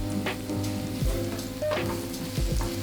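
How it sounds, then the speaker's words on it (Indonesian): Garlic and shallots sauté in a pan with a steady close sizzle, broken by a few scraping stirs of a utensil, with no talk. "Pertama, kita mau langsung tumis aja bawang putih, bawang merah."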